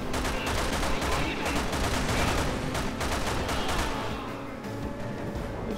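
Gunfire in Resident Evil 6 rattles on almost without pause, a dense stream of shots layered over a low rumble, loud throughout and easing slightly toward the end.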